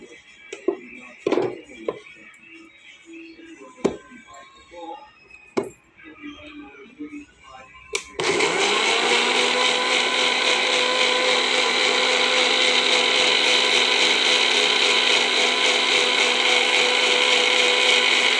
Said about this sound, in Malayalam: ഇനി നമുക്ക് മിക്സിയിലിട്ട് അടിക്കാൻ പോകും.